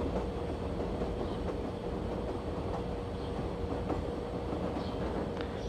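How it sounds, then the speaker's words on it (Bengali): Steady rumble and rhythmic clatter of a train running at speed in the Indian Train Simulator game, a continuous dense rolling noise with faint wheel clicks and no voices. "তো বন্ধুরা দেখতেই পাচ্ছেন আমার ট্রেনটি কিন্তু 125 স্পিডে চলছে"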